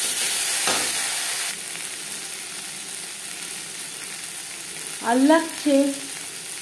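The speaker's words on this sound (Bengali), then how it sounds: "3-4 মিনিট পেঁয়াজ রসুন ভেজে নেওয়ার পর দিয়ে দেবো আদা বাটা" Onion, garlic and ginger paste fry in a pan with a continuous hissing sizzle throughout, and a brief voice speaks near the end over the cooking.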